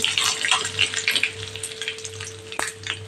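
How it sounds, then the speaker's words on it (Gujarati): Mustard seeds, cumin, dried chillies and curry leaves hit hot oil for a dal tempering, setting off a loud, close crackling sizzle with sharp pops and spits that ease into a steadier fry. "તો અડધી ચમચી જેટલી રાઈ ઉમેરશું અડધી ચમચી જેટલું જીરું ઉમેરશું બે સૂકા મરચાં ઉમેરશું મીઠા લીમડાના પાન ઉમેરશું"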